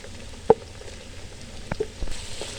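Potatoes and onions frying in a pan, a soft steady sizzle with a few sharp clicks and clatters of a utensil, the hiss brightening near the end.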